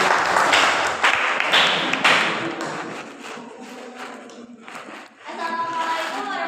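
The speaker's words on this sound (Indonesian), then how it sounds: "Tepuk tangan kelompok 1." A classroom group of students claps in applause for the first presenting group, a dense burst of hand claps that tapers off over several seconds with some voices mixed in.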